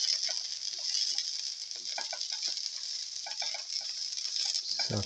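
Chopped shallots sauté in a hot pan with a constant bright sizzle. Soft scraping and stirring taps sound over it, and a low clunk comes at the end.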